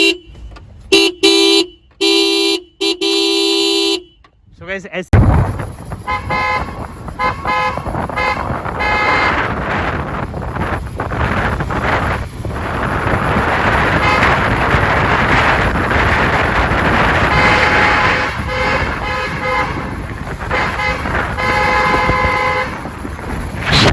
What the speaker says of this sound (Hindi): तो भाई यहाँ से आपको सुन जाएगी हॉर्न की आवाज़।